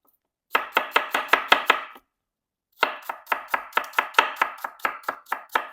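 A knife thinly slices an onion on a board, two quick runs of crisp, evenly spaced cuts, about eight then eleven strokes, separated by a brief pause, close and alone without talk.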